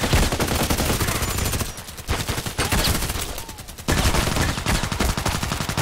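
An H&K MP5k submachine gun fires in the video game Contract Wars. Loud, rapid automatic bursts come close and in quick succession, separated by two short breaks.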